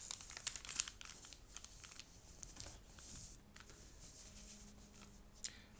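Paper is folded and collapsed along existing creases while making an origami puzzle cube, giving faint, close crinkles and soft papery rustles in irregular bursts, with no voices.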